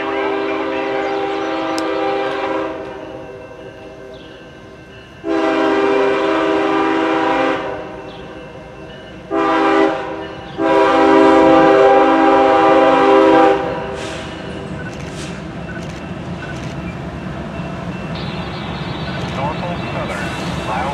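CSX and Norfolk Southern freight trains pass trackside at Milepost 286.0 on the CSX Chattanooga line, with loud, repeated horn blasts over the steady rumble and rolling of the cars.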